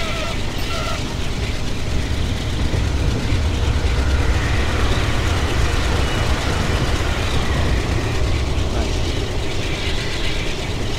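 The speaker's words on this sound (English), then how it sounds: "The train is too loud." Train engine in Train Simulator 2017 on a La La Land to Boston route, a loud continuous mechanical rumble with rattling, clanking rail noise, steady throughout without talk.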